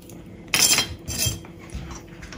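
Ingredients are mixed in a bowl for pork menudo: a few close scraping, clinking strokes of a utensil against the bowl come in uneven bursts, with quiet moments between them.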